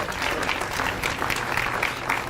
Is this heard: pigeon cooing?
no